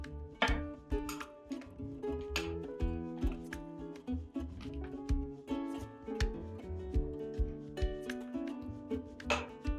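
Sharp knife chopping on a cutting board while prepping lemon and other ingredients for spicy beef samosas, a steady run of close, crisp knocks with no talk.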